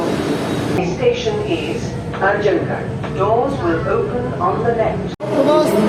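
A Delhi metro train runs with a steady rumble and whir from inside the carriage, loud and continuous under a person talking close by.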